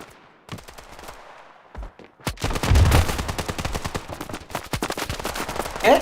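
Rapid bursts of gunfire in the Standoff 2 mobile shooter during a tournament match, loud clustered automatic shots and single cracks packed closely together after a brief quiet start.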